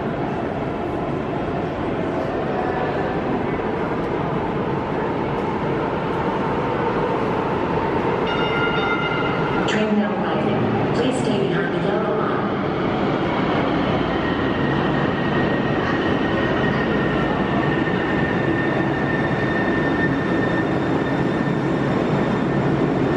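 Seattle Link light rail train arriving in an underground tunnel station, a loud continuous rumble and rail roar with a brief tonal squeal midway, steady and close throughout, with no talk.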